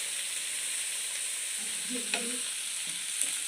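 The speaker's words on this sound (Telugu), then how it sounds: "ఇందులో ఫ్రై అవుతున్నాయి. ఫ్రై చేస్తున్నా." Coriander powder and spices frying in a pan, giving a faint, steady sizzle with a couple of soft stirring scrapes near the end; no one talks.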